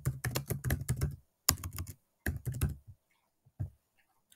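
Fingers type a form name on a computer keyboard in quick, clicking runs of keystrokes broken by short pauses, close and clear with nothing else around, ending in a few lone taps.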